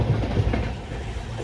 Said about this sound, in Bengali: ট্রেনটা কত স্পিডে চলছে শুধু দেখো।